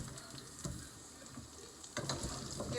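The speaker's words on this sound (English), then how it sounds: "So keep stirring so that this chilies, onions and the curry leaves cooks well" Chilies, onions and curry leaves frying and being stirred in a pan for sambar, a quiet steady sizzle with a few scraping clatters of the spoon against the pan, no voices.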